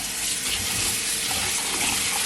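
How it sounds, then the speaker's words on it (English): Rice is rinsed under running tap water, a steady splashing gush that continues without break, close and fairly loud. "So now I'm just gonna wash my rice, and I'm gonna wash it in some cool water,"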